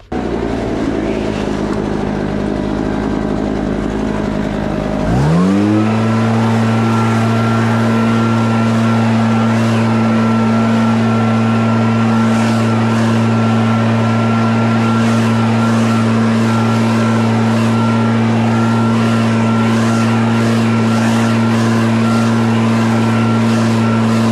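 A gas-powered leaf blower starts up loud and close, then holds a steady, unwavering drone while clearing debris and grass at a logging site where big logs were moved with a Bobcat MT100.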